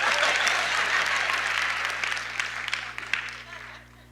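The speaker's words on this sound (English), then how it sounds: "y'all can clap for Miss Lena, right?" Warm applause from a church-style audience rises loud at first, then thins and fades out over a few seconds, with scattered cheers and low hum underneath.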